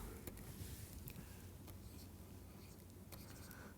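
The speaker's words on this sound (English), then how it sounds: "Just let me write this clearly." Pen or chalk writing during a physics lecture, faint close scratching strokes with small taps in an otherwise quiet room.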